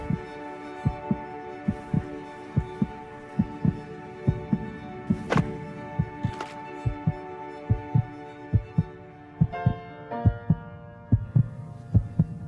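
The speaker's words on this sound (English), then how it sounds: "This song was created with heartbeats of children in need." Children's heartbeats form the rhythm of a song: a steady series of soft, thumping double beats repeating about once a second over sustained musical tones, with no voices.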